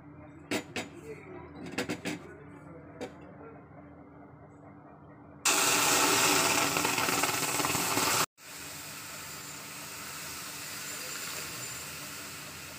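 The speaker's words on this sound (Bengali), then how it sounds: "তো চলুন দুধটা ঢেলে দিই।" Milk poured into a hot pan of fried vermicelli (simai) bursts into a loud, steady sizzling hiss after a few quiet kitchen knocks, drops out briefly, then continues as a softer, constant bubbling hiss.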